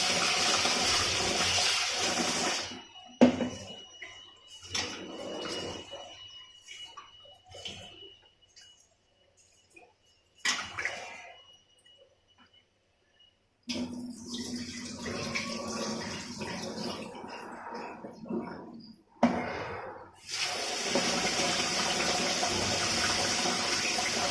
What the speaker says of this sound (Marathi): तीन पाण्याने आपले चांगले तांदूळ धुवून झाले आणि आता हे पुरा भांड्यात जेवढं पाणी बसेल तेवढं इथे भरलंय